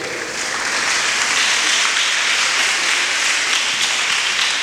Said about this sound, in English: a round of applause to all these contestants standing on stage.